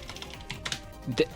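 Typing on a computer keyboard while working in an OfficeVision/VM mainframe office session, a few soft scattered keystrokes with a louder cluster near the end, close and quiet, with no talk.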